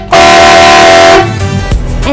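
A Marco Extreme Blast air horn driven by two heavy-duty compressors gives one loud, sustained, brassy blast lasting about a second during a horn sound test, then cuts off into a rumbling tail.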